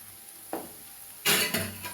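Onions and garlic browning in hot oil give a low, steady sizzle, with a spoon or spatula scraping the pan once early and then in a louder burst of stirring toward the end; no voices.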